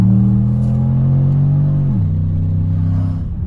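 A car engine drones loudly and steadily up close, its pitch holding as it drives, then dipping slightly as the revs drop, with no talk.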